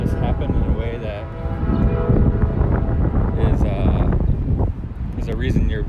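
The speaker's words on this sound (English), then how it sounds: "It's getting a little windy. I'm hoping that doesn't mess with the sound too much." Gusty wind buffets the microphone outdoors on Cleveland Street, rumbling low and steady under a person talking throughout.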